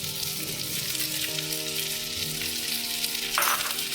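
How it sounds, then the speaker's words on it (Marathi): Onion frying in a pan for chole masala, a steady close sizzle and crackle with faint stirring scrapes and a louder spatter near the end. "कांदा छान फ्राय करून घेऊया दोन मिनटं परतून घ्यायचं आहे"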